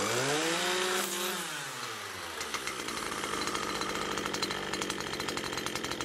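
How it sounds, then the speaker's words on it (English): A Stihl FS461 C-EM Pro brush cutter with an Autocut 46-2 mowing head cuts grass, its engine whining high and steady while the spinning line throws a rough, buzzing rasp that dips briefly and then carries on continuously. "if you do it on the grass, you get this ugly trimble sound"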